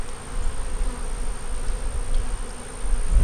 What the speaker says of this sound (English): the bees are just flying all over the place